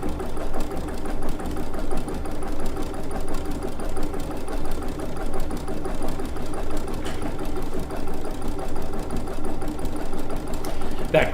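A Baby Lock embroidery machine couching yarn runs with a steady, fast mechanical chatter throughout, close and continuous, with a faint voice occasionally under the machine noise.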